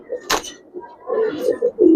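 A few soft low coos from a male and female pair of Giribaz and coloring pigeons, close by, with a brief flutter or rustle early on and short pauses between calls.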